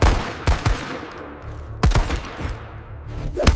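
Several sharp gunshots ring out during a staged clown fight, a pair close together near the start, another single blast, then a final shot at the end, each loud and punchy over a low rumbling background.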